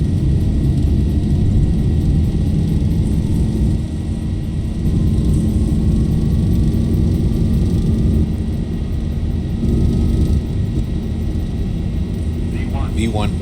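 A Zibo Boeing 737-800 in X-Plane roars down the runway on its takeoff roll, a loud steady engine drone with a rising whine, while a voice talks over it.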